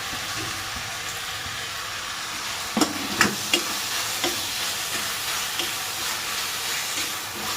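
Chopped tomatoes go into ginger-garlic paste frying in a pan and are stirred, making a constant sizzling hiss broken by a few sharp spoon knocks and scrapes in the middle, with no talking.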